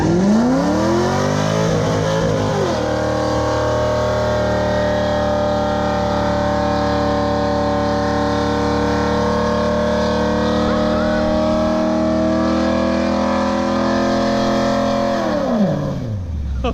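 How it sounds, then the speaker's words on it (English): A car does a sustained burnout, the engine held at high, steady revs for over ten seconds after a rising start, loud and close, with the tone dropping away at the end. "And then you can let go of the brake and start your burnout."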